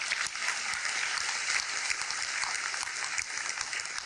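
Steady, dense applause from an audience at a Hindi poetry recitation, sustained at an even level throughout with no speech over it.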